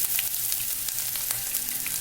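Chopped ginger and garlic sauté over a low flame in a pan, giving a continuous close crackling sizzle with a few faint stirring scrapes. No voices are heard.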